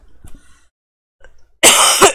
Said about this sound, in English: We're gonna have a coughing fit at the beginning of this stream again.